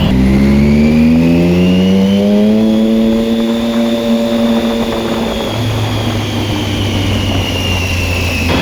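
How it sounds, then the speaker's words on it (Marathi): A motorbike moves through road traffic in Hadapsar, its engine droning loudly and steadily up close, with revs rising and falling and other vehicles passing. "हडपसरमध्ये आज थोडंसं ट्रॅफिक."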